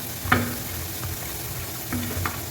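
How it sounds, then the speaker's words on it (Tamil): Potato french fries frying in hot oil give a steady, soft sizzle with a few brief scraping or stirring knocks. Heard close, with no talking. "நான் ஃப்ரை பண்ண போடுறேன். உருளைக்கிழங்கு போட்டாச்சு."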